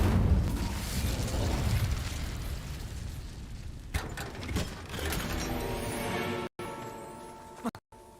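The Incendio fire spell cast in Hogwarts Legacy, a dense roaring whoosh of flame and rumbling blast that fades into mechanical clanks and ratcheting game effects, loud and close, with short cuts of silence near the end.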